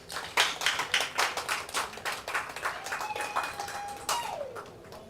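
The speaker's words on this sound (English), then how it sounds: "A hand clap for them" Audience claps for award recipients at a closing ceremony for a rural women's agribusiness project, a few hands giving uneven, separate claps that taper off, with a brief tone and a faint voice near the end.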